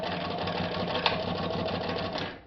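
A Japanese-made Riccar sewing machine stitching in reverse through several layers of bottom-weight fabric gives a steady, fast, close mechanical whir and chatter that runs throughout and winds down at the end, with one sharp click partway.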